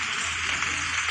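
Heavy rain pours down in a dense, even hiss of drops on surfaces, loud and close, with a low rumble underneath and no voices.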